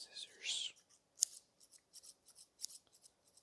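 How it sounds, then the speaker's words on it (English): A few crisp scissor snips close up in an ASMR recording, quiet and intermittent, with soft whispering at the start. "gonna do some little scissor sounds"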